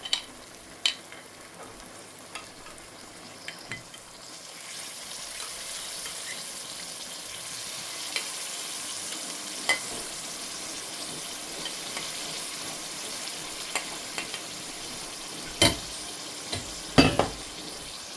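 Masala spices cooking in a pan for a dry jinga (prawn) curry give a steady, close sizzle and fry hiss throughout, with occasional sharp clinks and scrapes of stirring, and no voices.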